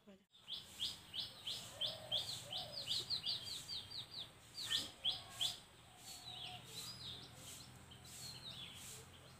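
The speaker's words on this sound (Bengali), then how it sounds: "পরিবেশটা কি সুন্দর চারিদিকে পাখির ডাক" Outdoors, birds chirp and call in quick repeated bursts, with a lively run of tweets early on that thins to scattered calls over a quiet background.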